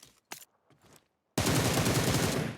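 Rapid, continuous automatic fire from an M762 rifle in PUBG Mobile: a loud, dense spray of shots that starts abruptly after a few soft clicks and short handling noises.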